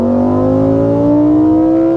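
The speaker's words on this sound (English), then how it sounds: "you get that engine noise piped directly into your brain with pops, crackles, snaps" A Lamborghini Huracan Spider engine with the roof up and the rear window lowered, a loud steady droning exhaust note in sport mode with a slowly rising pitch. The pops and crackles of the downshift are not distinct.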